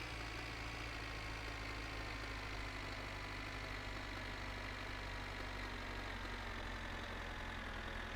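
A tractor engine idles in the video game My Winter Car, a steady low mechanical drone with a rough, even hum that holds unchanged for the whole stretch, with no talking.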